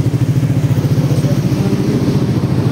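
A Yamaha Aerox S scooter engine runs after a restart in a repair shop, a loud close idle with a fast steady pulsing throb and a light mechanical clatter.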